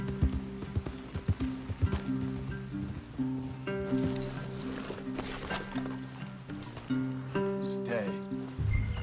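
Horses in the video game Red Dead Redemption 2 clop along with rhythmic hoofbeats and an occasional snort over a low sustained musical score, fairly close and moderately loud.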